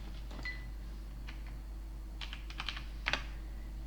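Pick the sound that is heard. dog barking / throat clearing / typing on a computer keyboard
typing on a computer keyboard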